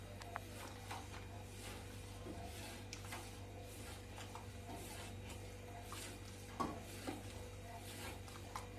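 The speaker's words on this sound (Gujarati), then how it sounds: "અને આમ સરસ રીતે હલાવતું રહેવાનું છે" A spoon stirs milk in a pan as milk powder is added little by little, making soft scraping swirls with small metallic taps over a constant low hum.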